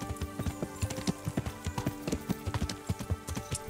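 Steady rhythmic clip-clop of horse hooves at a trot in the video game Kingdom Come: Deliverance, moderately loud over a faint musical background.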